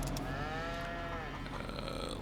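Cattle lowing on a farm in Farming Simulator 25, a drawn-out moo with harmonic sweep rising and falling over steady low background hum, fairly close and moderately loud.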